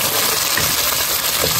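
Dried chilies and Sichuan peppercorns go into hot oil with scallion, ginger and garlic in a wok, giving a loud, steady crackling sizzle that continues without talk.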